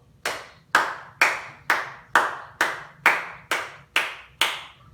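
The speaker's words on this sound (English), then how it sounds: "Let's give yourselves 10 claps." A group of people clap in unison exactly ten times, each sharp, close, loud clap evenly spaced about half a second apart, with a quiet murmur beneath.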